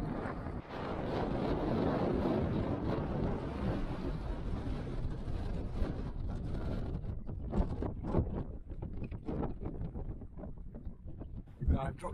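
Strong wind buffets a microphone on an exposed hilltop, a loud continuous low rumble that gusts and eases, with a person talking over it.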